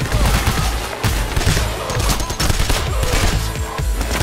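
Dense, loud gunfire fills a shootout in the video game Payday: The Heist, with rapid overlapping shots and crackling volleys running without a break.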